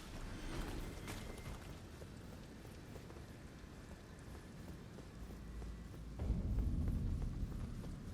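Steady clip-clop of horse hooves at a run in the video game Elden Ring, continuous and fairly muffled, with rumbling ground noise swelling louder near the end.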